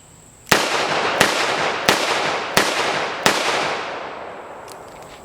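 Five sharp, loud gunshots from a Ruger SP101 .357 Magnum revolver fire in an even rhythm about two-thirds of a second apart, each leaving a long decaying ring.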